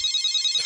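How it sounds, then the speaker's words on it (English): A telephone rings with a short, bright electronic trill, loud and close, cutting off sharply within a fraction of a second. "Then the phone rings, Ando."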